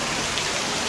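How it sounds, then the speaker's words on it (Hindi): Heavy rain pours steadily at a lush jungle island resort, a dense, even hiss of drops striking surfaces close by with no pauses. "Weather is really pleasing, but it's raining."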